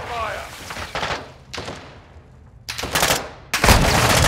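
Gunfire in Modern Warfare 2 breaks out in separate bursts that grow louder and denser toward the end, ending in a heavy, close volley, mixed with shouted voices.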